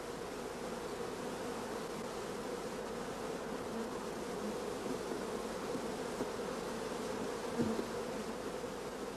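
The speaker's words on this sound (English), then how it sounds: "many young bees are occupied in nursing the young larvae" Honeybees hum over brood frames of open brood in a hive, a dense, steady buzzing swarm sound that stays faint and even throughout, with no voices.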